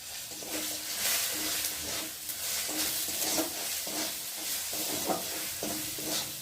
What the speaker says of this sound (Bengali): দিয়ে মশলাটা ভেজে নেব। যতক্ষণ একটা মশলা ভাজা গন্ধ বেরোবে ততক্ষণ কষিয়ে নেব।